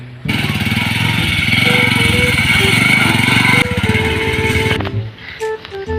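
A motorcycle engine runs loudly and steadily close by, a buzzy idle-to-rev drone holding for several seconds before dropping away, with other faint sounds following.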